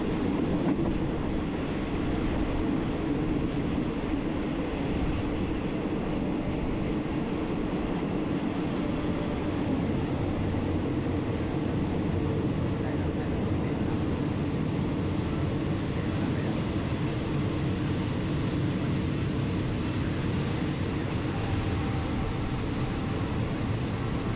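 A Thai train arriving at Kaeng Khoi Junction station rumbles and rattles continuously for the whole stretch, a steady loud mechanical roar with faint clicking of wheels over rails and no talking.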